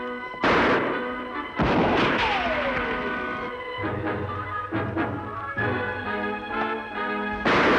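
Gunfire in a shootout from a Lone Ranger Western episode, several loud, booming shots spaced a few seconds apart with ringing echoes between them and a low hum underneath.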